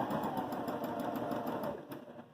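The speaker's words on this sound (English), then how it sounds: "So if we want to do a zigzag, we would just put it on the zigzag here, and it's ready to sew." A Baby Lock Jazz II sewing machine runs a zigzag stitch with a quick, even mechanical whir and ticking needle rhythm, then slows and fades near the end.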